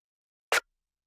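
A single short, dry snare layer sample with a bright, clicky character strikes once in isolation, about a tenth of a second long.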